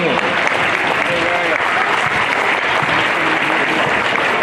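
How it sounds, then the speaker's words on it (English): Steady, dense applause from a crowd honoring the kids at a youth sports tournament, continuous and fairly loud throughout, with voices faintly mixed under the clapping. "So how about a round of applause for all the kids that have been here?"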